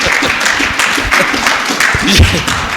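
A church congregation applauds to give glory to God, close uneven clapping mixed with speech from the front.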